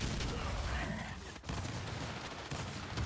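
Rapid bursts of gunfire from a shooter video game match crackle almost nonstop and loudly, with commentators talking over the shots.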